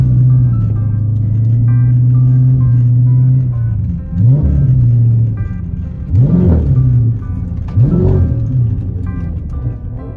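A Dodge SRT8 Hemi car driving in a snowstorm, a heavy engine drone that swells into repeated revving surges near the microphone, with no talk.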